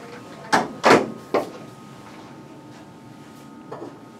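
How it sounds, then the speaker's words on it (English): An indoor door is pushed shut: a few sharp knocks and thumps land in quick succession within the first second and a half, then quiet room tone with one faint knock near the end. "I'm going to close the door now"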